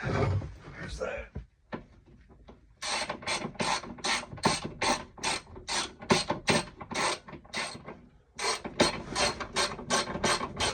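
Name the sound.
tightening a nut on a bolt drilled through the floor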